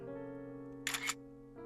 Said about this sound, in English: I begin clicking the shutter.